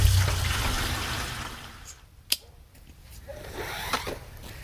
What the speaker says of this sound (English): I'm going to wash out the bottom first, and then I'm going to fill it up